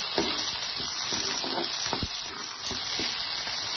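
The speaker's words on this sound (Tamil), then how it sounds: "அது கொஞ்சம் கசப்பு தந்ததுனால நம்ம எண்ணெய் நல்லா வறுத்துக்கணும்." Turkey berries (sundakkai) frying in oil for a kuzhambu give a steady, close sizzle, broken by soft clicks and scrapes of stirring throughout, with no voices.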